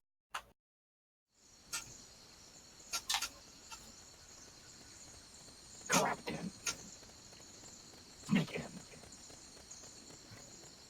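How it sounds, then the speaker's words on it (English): Footsteps in Metal Gear Solid: Peace Walker, quick soft steps in a steady rhythm over a background of insect chirps, with a few louder thuds, and people talking over it. "Yeah, listen to the footsteps."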